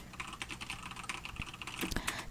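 Typing on a computer keyboard while entering a subtitle in Premiere Pro CC 2018: a steady run of quick, close key taps with a few louder strikes near the end, no voices.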